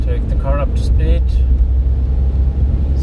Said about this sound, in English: And then let's take the car up to speed.